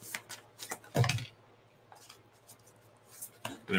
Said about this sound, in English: So I'm going to give these other cards a quick shuffle.